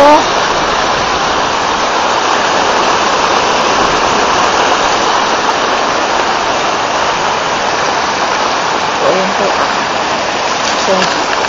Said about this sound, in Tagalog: Madaan ako mula dyan, no? Mula sa umaagos na tubig.